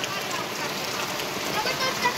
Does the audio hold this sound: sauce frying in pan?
no